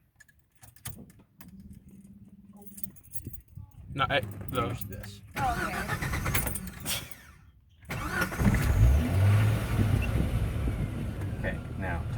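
A manual-transmission car's engine cranks and catches after the key turns, following keys jangling and brief talk, then a steady idle continues near and fairly loud.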